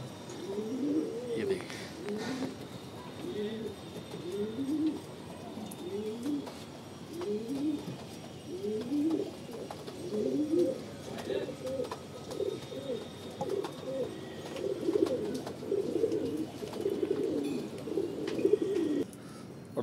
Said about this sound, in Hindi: ये रहे, दिख गए दोस्तों, काफी ऊपर है कबूतर ये।